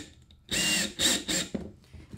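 A power drill whirs in several short bursts, three close together and then a briefer one, while parts for a homemade lightning detector's bubbler assembly are being drilled. Close and loud, with quiet gaps between bursts.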